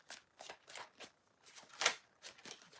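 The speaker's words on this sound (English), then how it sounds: "But just give these a shuffle." Close, soft riffling bursts of a tarot card deck being shuffled, repeated in an uneven rhythm of quick flutters, with no talking.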